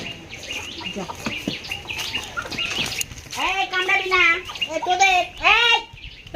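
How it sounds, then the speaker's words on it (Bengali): Laying hens at a village home clucking in a run of short, rising calls close by, with people talking over and around them. "এই যে মুরগি"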